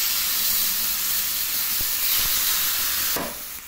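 Chicken breast sizzling in a hot pan gives off a loud, steady hiss of frying, continuous and close, easing slightly toward the end.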